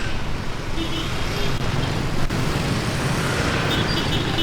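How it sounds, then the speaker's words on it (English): Busy street traffic in Saigon, Vietnam, a steady close wash of engines and road noise from cars and motorbikes, with no clear talk over it. "Going through a little bit of traffic here"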